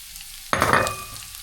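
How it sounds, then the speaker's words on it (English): Garlic hits a hot pan for a green bean and meat stir-fry, a sudden loud sizzle bursting in after a quiet moment and then settling into steady frying with some stirring, close up and with no talk. "Now let's add the garlic."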